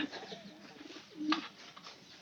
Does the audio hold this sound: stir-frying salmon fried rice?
no